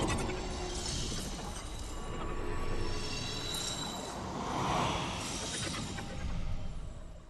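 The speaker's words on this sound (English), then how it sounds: "The decree fragments sound like this." Decree fragments in Warframe's Circuit mode give off a continuous shimmering, glassy drone with bright tonal layers, swelling gently at intervals over a steady ambient bed, with no talking.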